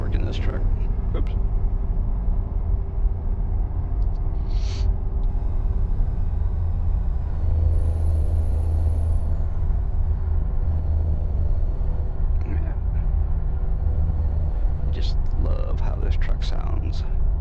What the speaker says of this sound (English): I think this may be a Cummins engine actually